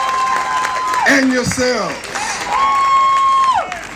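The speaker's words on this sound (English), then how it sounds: "let's give everybody a round of applause" Applause and cheering from a crowd at a hate crimes rally in Washington, D.C., a short burst of clapping mixed with a speaker's amplified voice.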